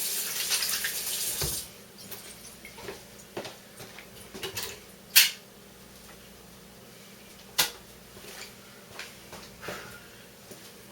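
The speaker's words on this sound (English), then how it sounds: "Let me wash my hands again." Tap water runs strongly at first while hands are washed in a kitchen sink. After the flow stops, scattered clicks and small knocks follow.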